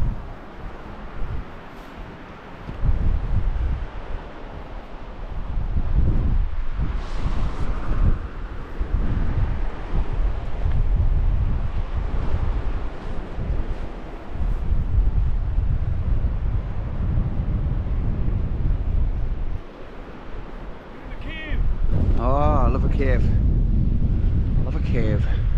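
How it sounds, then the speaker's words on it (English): Strong wind buffets the microphone at a wild camp in the far north of Scotland, with loud, gusting low rumbles that drop briefly and return, and a person speaks over them near the end. "Oh, that wind."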